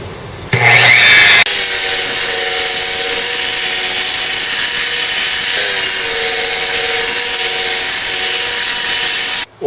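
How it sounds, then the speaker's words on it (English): A DeWalt rotary buffer set to 1200 RPM polishes scratched car paint, spinning up and then holding a loud, steady, high motor whine with a slight shift midway before cutting off at the very end. "what I have here is my DeWalt buffer, and I'm going to set it at 1200 RPMs"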